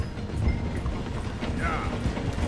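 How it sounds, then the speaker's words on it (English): Train in the game Red Dead Redemption 2 slowing as it passes through a station, a steady low rumble of rolling wagons with faint clatter and a brief squeal of brakes near the end. "The train is slowing down to go through the station."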